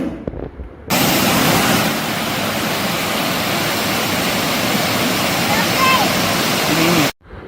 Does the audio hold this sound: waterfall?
yes